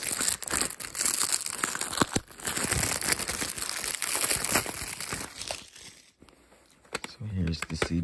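Plastic wrap is peeled and crinkled off a Lady Gaga The Fame Monster CD, with continuous close crackling and tearing that fades near the end.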